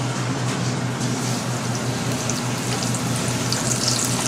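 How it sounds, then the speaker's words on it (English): Tortillas fry in hot oil for chilaquiles with a steady, close, crackling sizzle that holds evenly throughout, over a low background hum and no talking. "So let's go ahead and fry these babies up"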